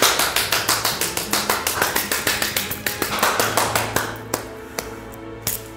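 A small group claps in a quick, regular rhythm to cheer on a lead actor, the sharp beats fairly near and even at first, then thinning into a few scattered, isolated claps toward the end.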